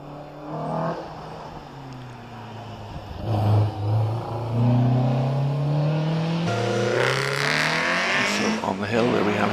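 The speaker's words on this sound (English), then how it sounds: "Four is David Birch in Westfield Sports 2000." A Westfield Sports 2000 race car climbs the Prescott hill climb course, its engine revving loud and close with rising pitch through the gears, building to a harsh high-revving roar as it passes.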